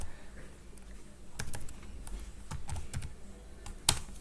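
Java code is typed on a computer keyboard in quick, irregular bursts of close, crisp key clicks, ending with a single louder keystroke.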